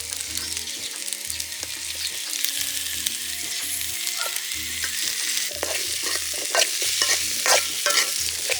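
Tomatoes are stirred into a sizzling goat boti gravy in a village kitchen, with continuous frying sizzle and rhythmic scraping and knocking of a spoon against the pot.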